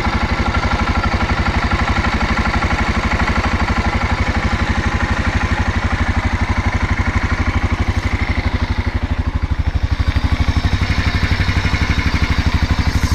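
A Yamaha Rhino engine runs steadily with a 1970s Ford alternator fitted in place of the stator, spinning backwards and charging; a loud, even idle drone with fine rhythmic clatter throughout, and a brief spoken word at the start.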